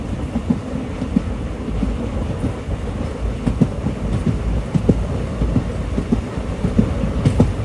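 Amritha Express passenger train running on rails, a steady close rumble with rhythmic clickety-clack wheel beats throughout, heard from inside the moving train.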